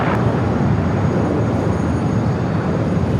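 A Singapore Airlines Airbus A350-900, six years old, starting to taxi at LAX gives a loud, steady, broadband rumble and roar of jet engines that holds constant throughout.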